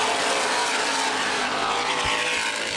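Late model race cars accelerate together on a restart at Baer Field Speedway, a dense, loud, continuous engine roar with no pauses.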